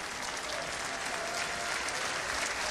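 A stadium crowd at a rugby league World Cup match between France and New Zealand applauds in a steady, distant wash of clapping that fills the whole moment without pause.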